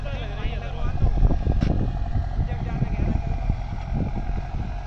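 A Deutz-Fahr Agrolux 80 HP tractor drags a 13-tine cultivator through a field, its diesel engine a heavy, steady low rumble under strain with wind buffeting the microphone.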